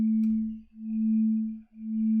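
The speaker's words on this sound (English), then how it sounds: "Let's just play a simple sine wave with a slow moving volume change" A synthesized pure sine tone made in Max, a steady low hum whose volume swells and fades slowly, dipping almost to silence about once per second.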